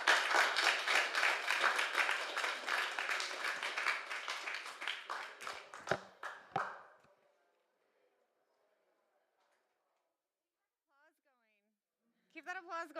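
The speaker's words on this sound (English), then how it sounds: "Keep that applause going." Conference audience applauding at a climate summit food systems event, a dense burst of clapping lasting several seconds and fading out, followed by silence and then a brief voice.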